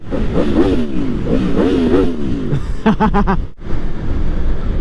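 A loud Aprilia Tuono V4 Factory motorcycle engine drops and burbles as it decelerates under engine braking, with rapid popping pulses near the end before the rumble carries on steadily.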